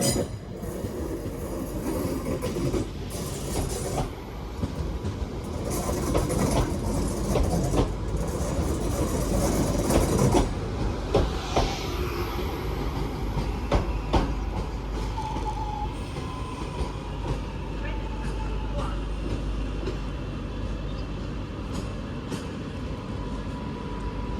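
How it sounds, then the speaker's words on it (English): A Northern Class 323 electric train pulls into a platform at Manchester Piccadilly with a loud, continuous rolling rumble, clattering wheels and brief metallic squeals as it slows. "Got another Northern 323 arriving in. This time another one for platform 6."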